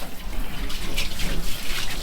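Water splashes and trickles steadily over a Corvair engine during a rinse. The flow carries on for the whole stretch as a continuous hiss with brief brighter gushes, close by, with no talking.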